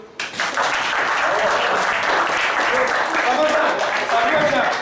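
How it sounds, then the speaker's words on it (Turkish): Loud, sustained applause from a large crowd at a school report card ceremony in Midyat begins abruptly and holds steady, with a voice faintly audible beneath it. "Evet, alkışlıyoruz."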